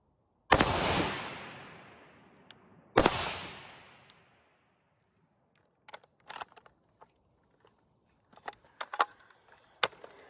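A C308 rifle fires two ZQI rounds outdoors, two sharp loud cracks a few seconds apart, each trailing a long fading echo, followed by quieter clicks and handling knocks.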